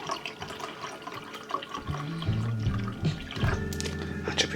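Water is poured into a glass of cordial to dilute it, a rising gurgle of liquid filling the vessel that grows louder and fuller partway through, close by with no talk.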